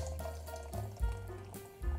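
Beer pours and splashes, missing the glass and spilling across the front of a home bar, in uneven gurgling bursts with low splatters near the mic.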